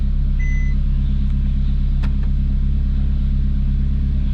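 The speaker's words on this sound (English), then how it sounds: "I'm driving a Ferrari." A 2012 Ferrari California, a totaled car, idles and creeps along with a steady, loud low engine rumble throughout and a faint tick partway through.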